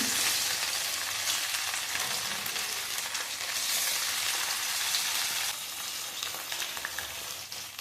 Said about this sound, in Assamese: ইয়াতে এতিয়া মই মাছখিনি ভালদৰে ৰঙচুৱাকৈ ভাজি ল'ম